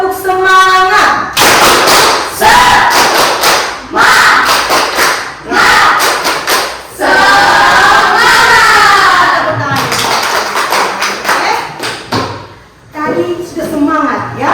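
A class of junior high school students in North Sulawesi, Indonesia, claps and shouts a rhythmic spirit chant, loud and close, with bursts of synchronized claps between chanted phrases.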